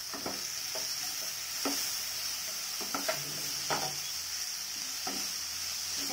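Chopped tomatoes sizzle steadily in a hot pan for an Odia cabbage curry, with a spoon scraping and clacking as they are stirred at an irregular pace, close up with no talking.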